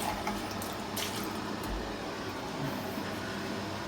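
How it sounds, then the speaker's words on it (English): Water splashes and swirls steadily while a jug is rinsed out at a kitchen sink during pancake making, a continuous close wash of running liquid with no talking. "So I'm just going to give it a quick rinse."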